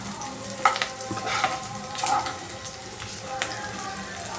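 A little garlic frying in a pan for a coconut-milk vegetable stew makes a close, steady sizzle, with a few sharp clinks of stirring and utensils over it.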